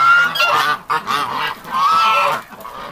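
Geese honking close by, several loud nasal calls in quick succession, with two longer honks broken by a short pause.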